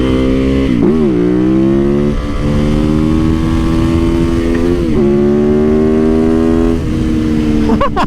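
A lightweight motorcycle engine revs hard and loud, its pitch sweeping up and down through several shifts over a steady, close-miked drone.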